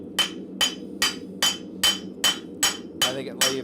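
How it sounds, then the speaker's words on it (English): A small ball peen hammer striking rivets in a blacksmith shop, nine sharp, evenly spaced metallic blows close by, with a faint background hum between strikes. "I'm going to get my little ball peen hammer into this"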